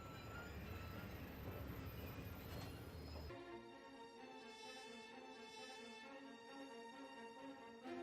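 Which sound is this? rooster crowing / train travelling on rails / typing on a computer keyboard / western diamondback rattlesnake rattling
train travelling on rails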